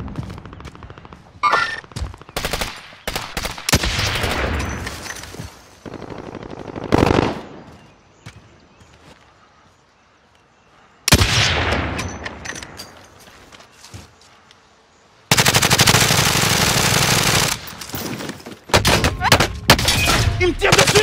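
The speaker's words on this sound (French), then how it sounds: "Il me tire dessus." Gunfire in Call of Duty Warzone: loud close bursts of automatic fire and single shots come in irregular clusters, separated by near-silent gaps, with one long sustained burst near the end.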